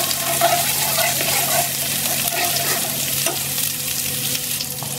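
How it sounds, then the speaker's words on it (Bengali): Onion, green chili and ginger-garlic paste frying in oil in a pan for a Katla fish curry, giving a continuous close sizzle with faint stirring scrapes throughout and no voices. "মশলাটা সুন্দর করে কষিয়ে নেব তেলটা ভেসে আসা পর্যন্ত।"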